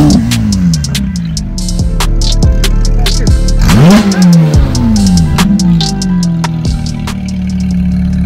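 A straight-piped Porsche 992 GT3 with an IPE exhaust revs hard while doing donuts. The engine is loud and close, with rising and falling surges, sharp bursts and crackles throughout.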